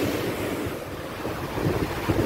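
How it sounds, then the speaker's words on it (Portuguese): High-tide waves surge against a seawall, a loud continuous rush of churning surf with wind noise on the microphone and swells building near the end. "olha aí a maré alta, olha só a altura desse barreiro aqui já"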